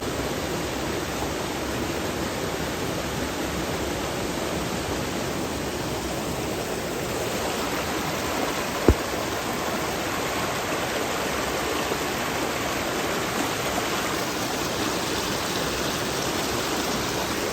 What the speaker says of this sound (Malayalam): നല്ല ഒഴുക്കാണ് വെള്ളം